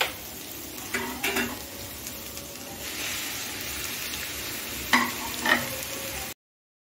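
Egg mixed with onion and chopped ridge gourd fries in a pan, giving a steady soft sizzle with a few louder spits and stirring knocks near the middle and end.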